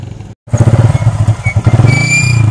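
A motorcycle engine revs hard up close, a loud throbbing exhaust note with clattering mechanical thumps that holds steady after a brief cutout at the start.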